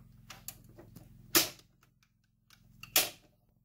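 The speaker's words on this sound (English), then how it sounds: "let's flip the breakers on now" Circuit breakers for a Rheem RETEX-18 electric tankless water heater snap on in two sharp, loud clicks about a second and a half apart, with smaller ticks and a low hum in between.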